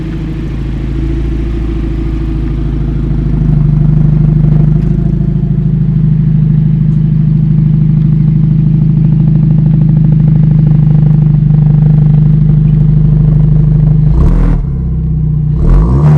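A 2021 Kia Stinger with a Magnaflow cat-back exhaust idles loud and close with a throaty, rumbly drone, rising into a sustained held rev before easing off with a couple of short blips near the end.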